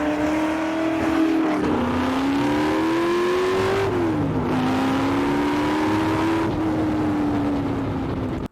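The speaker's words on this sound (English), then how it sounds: "Oh, that car sounds amazing." A car engine revs loudly and repeatedly, its pitch climbing and dropping through several rising pulls and sharp gear-change dips, close and steady, with no talk over it.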